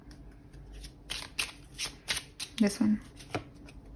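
Tarot cards being shuffled, a series of quick riffling bursts close up, with a person briefly speaking over them.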